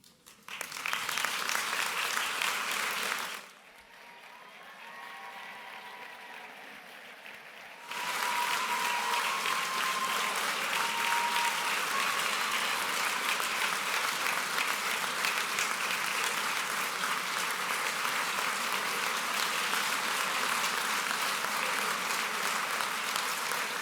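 Audience applause at a medical school graduation ceremony for the Medicine and Surgery class of 2023, a broad, loud wash of clapping that briefly drops away, then returns steady and sustained for the rest of the stretch.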